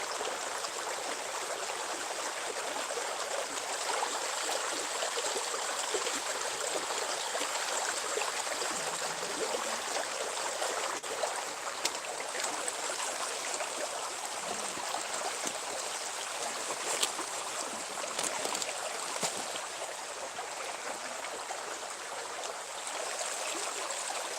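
Creek water runs steadily at night, a continuous broadband rushing and babbling with small trickles and gurgles throughout, close and even, with no voices.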